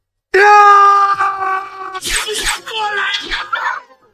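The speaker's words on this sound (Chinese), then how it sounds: "野狼嗷的一声惨叫" A wolf's loud, drawn-out howling wail that breaks into several sharp, harsh yelps and cries of pain, close and intense.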